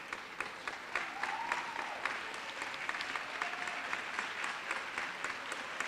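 An audience claps steadily through a women's event hall, the even, dense applause sounding a little distant and filling the whole stretch without any break.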